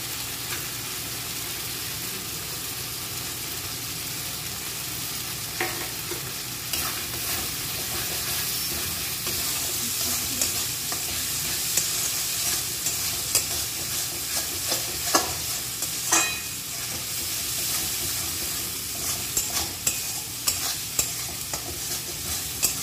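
Spice paste with turmeric and garam masala for a mutton curry frying in a pan, a continuous close sizzle under repeated scraping strokes of a spoon stirring it.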